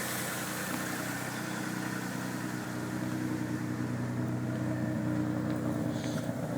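A Mitsubishi 3000GT VR4 twin-turbo engine, smoking and blowing water, idles after revving, a steady low rumble with a faint mechanical hum, heard close and without any talk.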